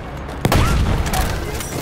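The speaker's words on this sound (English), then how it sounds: "Wait for the enemy artillery barrage to stop." Enemy artillery barrage in the video game Battlefield 1, a sudden loud blast followed by a sustained roar of explosions and rumbling fire, dense and continuous.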